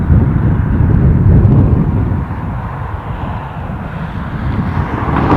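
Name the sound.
Aer Lingus A320 airliner arriving at Dublin airport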